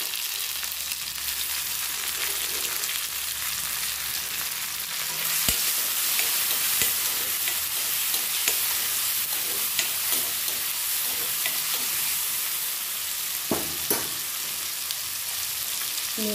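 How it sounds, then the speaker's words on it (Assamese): Tomatoes frying with onions in a pan for Maggi noodles give a steady, close sizzle throughout, with occasional clicks and stirring scrapes and a brief sharp knock partway through. "এতিয়া মই বিলাহী দিছোঁ।"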